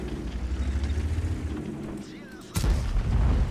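A 10.5 cm HE tank cannon on a VK 2801 in World of Tanks, Himmelsdorf map, fires one loud, close boom partway through, over a continuous low engine rumble.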